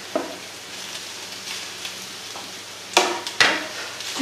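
Blood sausage (boudin) sizzles in a frying pan with apples, a steady close fry hiss broken by a few sharp crackles and spatters toward the end.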